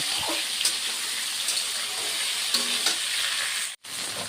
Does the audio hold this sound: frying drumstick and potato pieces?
yes